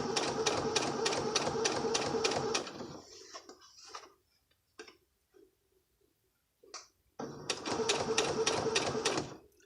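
Sewing machine stitching in the ditch on a garment, a steady fast mechanical whir of needle strokes, then a pause with small handling clicks, then stitching resumes, close and clear.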